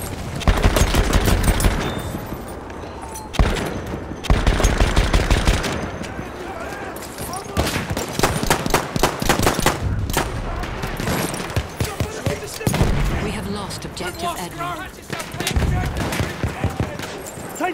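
Machine gun fire in the video game Battlefield 1, loud rapid rattling bursts repeating throughout with short gaps, close and dominant, mixed with other battle noise and occasional game voices.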